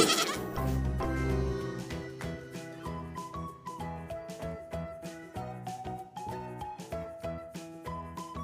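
Baby goat bleats ring out over a bouncy children's song, repeating in time with the beat.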